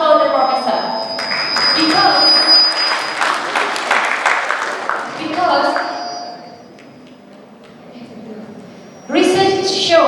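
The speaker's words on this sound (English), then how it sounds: "Applause for the professor." Audience applause for a professor during a leadership talk, a dense burst of clapping lasting about five seconds, then quieter room sound before a voice speaks loudly close to the microphone.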